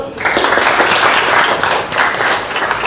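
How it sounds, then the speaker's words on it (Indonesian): Applause from a classroom audience during a pharmacy teacher performance assessment, steady dense clapping filling the clip with a few voices mixed in. "kasih tepuk tangan dulu"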